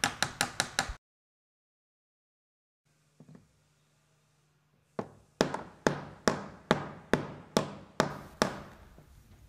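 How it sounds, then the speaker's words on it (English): A small ball peen hammer riveting copper boat nails over roves delivers crisp metallic taps: a quick burst of five blows, a pause with a faint knock, then a steady series of about ten evenly spaced ringing strikes, close and loud. "the nail is peened or riveted over the rove with multiple light blows from a small"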